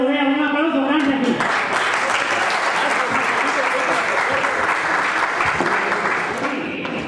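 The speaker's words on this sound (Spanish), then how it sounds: "un aplauso grande aquí" Big round of applause from a live concert crowd at a Colombian music tribute show, dense steady clapping rising after a brief musical note at the start and continuing loud throughout.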